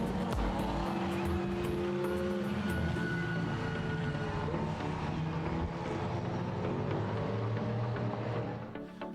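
Race cars in a GT3 winter series event at Estoril pass on a formation lap, a loud, dense engine roar that holds steady throughout and fades slightly at the very end.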